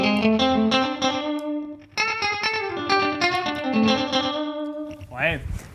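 An electric guitar played through a Universal Audio delay pedal, bright picked notes ringing out with repeating echoes that trail and overlap, ending in a brief swirling, modulated sweep.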